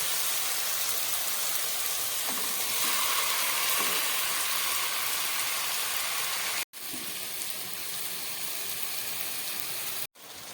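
Mutton pieces dropped into lightly fried spiced masala for Bengali-style mutton kasha hiss and sizzle steadily and loudly in the pan, a dense continuous frying crackle with two brief sharp breaks.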